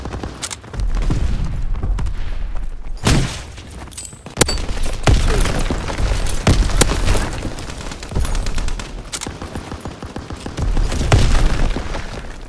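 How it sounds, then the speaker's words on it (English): Grenade explosions and gunfire in Call of Duty: WWII ground war combat, heavy booms and rapid bursts of shots layered over a continuous rumbling battlefield din, loud and close. "fucking perfect nade"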